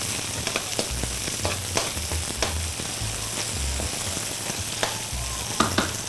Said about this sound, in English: And I have some fresh string beans I'm going to add to that. Okay, and we're going to stir that too.